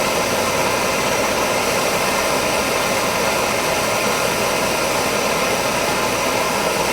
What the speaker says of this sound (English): I've just got a regular propane torch here.